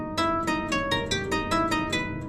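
Keyboard playing the theme of Bach's Keyboard Partita No. 3 in the middle voice against counterpoint, a quick run of roughly ten distinct notes in a steady rhythm, close and clear with no talking.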